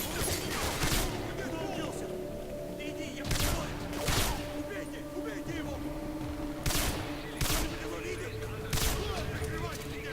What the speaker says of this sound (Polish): Kto to strzela stąd gdzieś do mnie?